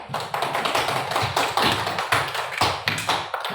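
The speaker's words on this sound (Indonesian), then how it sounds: "Nah, kita beri aplaus untuk Alvin." A classroom applauding a student who has just recited, several seconds of dense, lively clapping from a group, loud and close with no voices.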